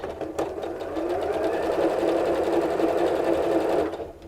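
Sewing machine running steadily for about four seconds as it stitches a quarter-inch seam on a Christmas stocking, a continuous close, loud mechanical whir that starts and stops abruptly.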